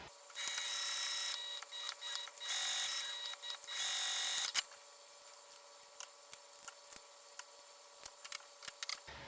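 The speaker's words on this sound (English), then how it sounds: "let's go ahead and sew around the sides and the bottom of the flap." A sewing machine stitches around the sides and bottom of a flap on a makeup bag, running in several loud whirring bursts, then stopping for a series of quieter clicks and taps.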